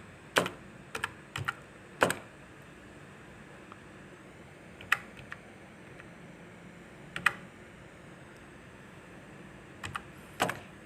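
Scattered single keystrokes on a computer keyboard while entering switch configuration commands, quiet close clicks arriving in small irregular bursts with long gaps between them over a faint background hum.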